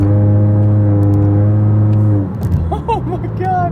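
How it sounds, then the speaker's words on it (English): A Honda Accord engine revs hard on nitrous oxide, a loud sustained harmonic drone for about two seconds that then drops off, followed by quieter engine noise with people reacting and talking over it. "Now, you can actually hear the change in tone of the motor too."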